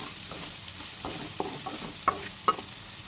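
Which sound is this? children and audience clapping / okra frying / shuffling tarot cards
okra frying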